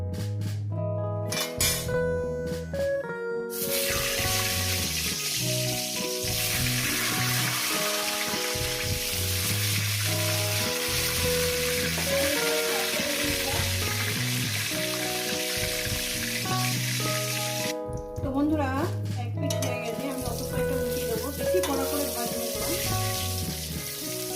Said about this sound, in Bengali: এবার আমি আস্তে আস্তে বেগুনগুলো দিয়ে দেবো ছেড়ে নেবো